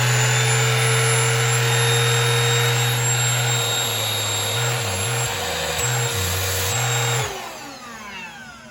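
A Shark UltraCyclone Pet Pro Plus CH951 cordless handheld vacuum with its pet power attachment runs with a loud, steady whine and hum, shifting pitch midway, then spins down as it switches off.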